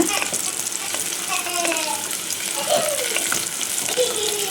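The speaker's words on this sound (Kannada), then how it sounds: "ಫ್ರೈ ಆಗ್ತಾ ಬಂದಿದೆ. ಇನ್ನು ಸ್ವಲ್ಪ ಇದು ಫ್ರೈ ಆಗಬೇಕು." Rice frying in plenty of ghee in a pan at home for ghee rice, giving a soft continuous sizzle with light scraping, close and steady under a voice.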